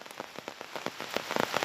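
Heavy monsoon rain pours steadily in Mundaje village, Belthangady taluk, Dakshina Kannada, near the flooding Netravati River, as a dense, continuous patter of drops hits surfaces, growing slightly louder toward the end, with no voices.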